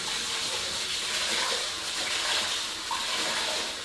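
Rinse water pours steadily off rice, a continuous close gushing splash that holds fairly even for a few seconds, with no one talking over it.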